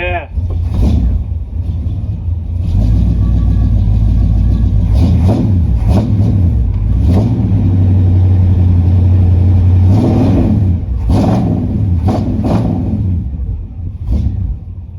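A 1972 Chevy C10 pickup engine runs loudly and steadily at idle for the whole stretch. Its rough uneven rumble rises slightly at points, and a person talks intermittently over it.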